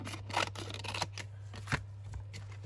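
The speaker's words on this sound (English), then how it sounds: "I'm going to take the embossing folder and cut round it so it fits in." Scissors cut through card around an embossing folder in a short series of close, crisp snips over a low steady hum.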